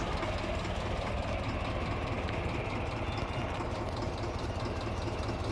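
A boat engine runs steadily as the boat travels through the Sundarbans, an unbroken, loud low drone with a rough, chugging texture and no pauses.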